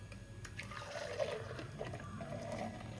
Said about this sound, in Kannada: ಇನ್ನೊಂದು ಸ್ವಲ್ಪ ನೀರು ಹಾಕೋಬೋದು. ನೀರು ಹಾಕೋತೀನಿ ನಾನು.